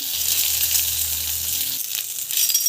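Cumin seeds and chana dal hit hot oil in a pan with green chillies for a mint and coriander chutney, giving a loud, bright crackling sizzle that keeps on steadily and briefly flares near the end.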